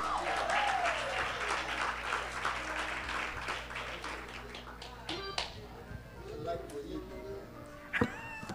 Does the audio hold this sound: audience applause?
yes